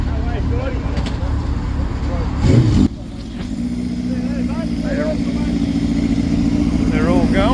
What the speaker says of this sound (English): They're all going. See you, Bob. 900 Hornet.